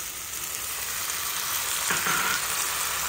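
Pointed gourd cooked with curd is stirred in a hot pan, giving a continuous close sizzle with a brief scraping stir about two-thirds through and no voices.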